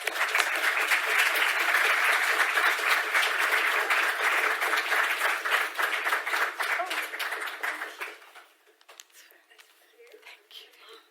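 Audience applause for the panellists at a discussion event: steady, dense clapping from a crowd that fades out over the last few seconds, leaving light scattered claps and quiet murmurs.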